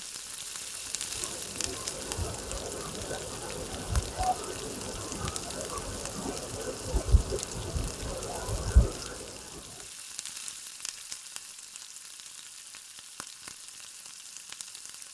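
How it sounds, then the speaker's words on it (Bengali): Spicy pakora fritters bubble and crackle in oil over a low flame, a dense close sizzle with a few sharper spatters that stops abruptly near the end, leaving faint quiet background. "ধীরে সুস্থে আস্তে আস্তে করে এটা লো ফ্লেমে ভেজে নিতে হবে, একটু সময় নিয়ে ভাজতে হবে।"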